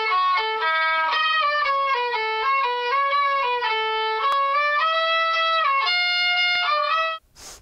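A violin played badly wavers through a short, uneven melody with bright, thin, sustained notes and sliding pitch changes, loud and alone before stopping abruptly.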